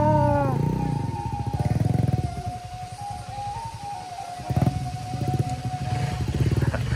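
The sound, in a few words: Honda Sonic motorcycle riding through mud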